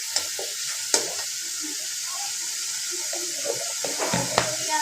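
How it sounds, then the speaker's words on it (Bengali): Ginger garlic paste and spices fry in a pan for a dried fish dish, giving a steady, fairly quiet hiss of sizzling oil. A few scattered clicks and scrapes of stirring come through on top. "মশলাটা একটু কষাবো ভালো করে"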